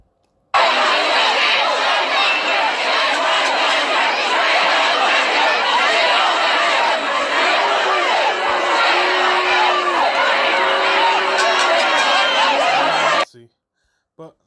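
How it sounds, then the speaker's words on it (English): A crowd gathered at a vigil shouts and jeers at police on a bandstand, a dense, loud, sustained roar of many voices that runs steadily for about thirteen seconds before cutting off abruptly. "One clip from the scene shows police being booed and shouted at by the crowd after they stepped onto the bandstand around 6:30."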